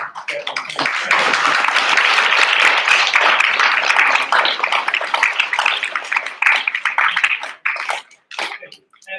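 A crowd applauds at the opening of an art installation, a dense, steady wash of clapping that holds loud for several seconds, then thins and tapers into scattered claps near the end.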